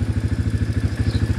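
Small farm bike engine with a centrifugal clutch, pull-started and idling with a steady, rapid low thumping pulse close by, no voices over it.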